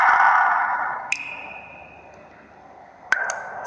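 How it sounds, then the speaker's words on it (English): MIUI 10 water droplet notification sound, two short bright plinks about two seconds apart, each with a ringing tail, following a fading tone at the start. "Listen carefully to the different tones of water droplets here."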